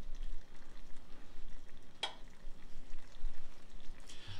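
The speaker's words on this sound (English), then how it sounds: "we'll see if it'll start sizzling here in a second" Pork steaks crackle and hiss faintly in a pan on maximum heat, a steady low sizzle with an occasional sharp pop.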